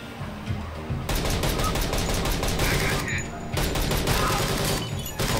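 High-caliber gunfire in the tactical game Door Kickers 2: heavy rapid volleys crack out in two long loud bursts separated by a brief lull, with a voice talking faintly beneath.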